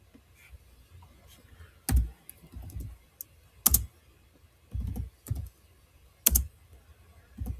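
Typing on a computer keyboard while entering IP address commands in Linux, a few soft scattered taps broken by several sharper, louder key strikes in uneven bursts, close and clear with no talking.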